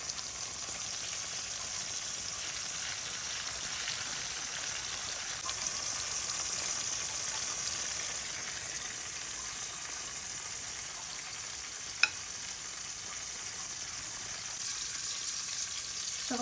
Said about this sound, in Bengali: বেগুনটা আমার সুন্দরভাবে ভাজা হয়ে গিয়েছে